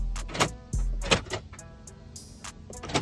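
Mechanical door latch and lock actuation on a Mercedes G63 AMG, several sharp clunks and clicks with a whirring motor in between, heard close and loud without any talk.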